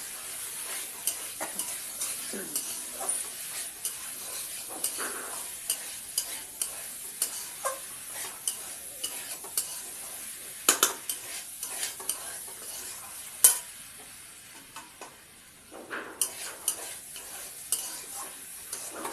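Potatoes and poppy seeds are stir-fried in a pan: a spatula scrapes and taps the pan repeatedly over a low, soft sizzle, with no one talking.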